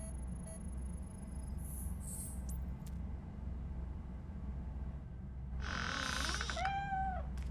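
Cat meowing inside the video game RoboCop: Rogue City, a pair of rising and falling mewing calls near the end over steady low game ambience, with no talking.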